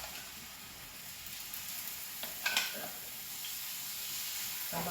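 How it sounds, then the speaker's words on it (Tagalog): Chicken liver frying in a pan, a steady close sizzle and hiss with a couple of brief louder crackles, no voices. "Ipiprito ko muna saglit."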